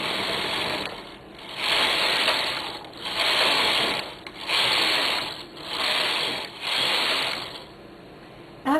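A knitting machine carriage is pushed back and forth across the needle bed to knit rows of garment yarn for a hem, each pass a loud, close whirring rasp separated by short pauses, with no talk.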